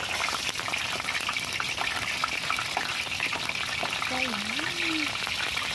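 Chicken wings fry in hot oil with a steady, dense sizzle and crackle throughout, close and constant, while people talk casually over it.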